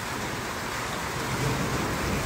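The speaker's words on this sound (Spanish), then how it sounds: "¡Ay, tormenta!" Heavy rain pours steadily in a thunderstorm at a ranch, a dense continuous hiss with a low rumble underneath, loud and unbroken throughout.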